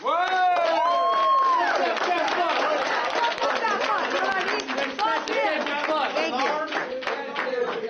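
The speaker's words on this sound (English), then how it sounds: "So everybody clap it up." A crowd of students in a classroom claps and cheers, with loud excited shouts and whoops at first, then rapid scattered clapping mixed with chatter.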